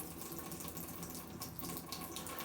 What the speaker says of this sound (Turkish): içindeki suyu tahliye edelim